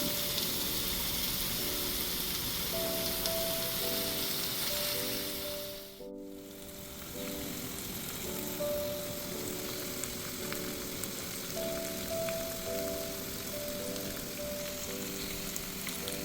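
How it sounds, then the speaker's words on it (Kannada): White salmon fish coated in green Gandhari chilli masala frying in plenty of oil in a pan over a low gas flame, a steady close sizzle with a brief dip partway, alongside a faint background hum. "ಫಿಶ್ ಫ್ರೈಗೆ ಸ್ವಲ್ಪ ಎಣ್ಣೆ ಜಾಸ್ತಿನೇ ಬೇಕು"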